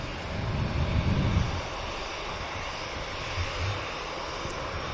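An airliner rotates on takeoff at Manchester Airport, a fairly faint, distant engine rumble with a low surge near the start and a smaller swell later, no voices present.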